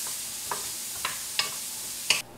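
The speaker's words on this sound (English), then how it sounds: "We're gonna cook those for about 4 minutes until they're just a little bit tender." Diced apples and sausage sizzle in a hot pan, with a soft steady fry broken by four evenly spaced scraping stirs of a utensil against the pan.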